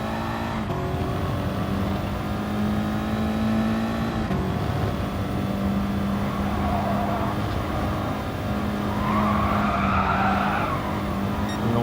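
An Audi TT race car in Gran Turismo Sport laps the Sardegna circuit, its engine droning loud and continuous with rising and falling pitch as it shifts, and tires squealing through corners, with no talking.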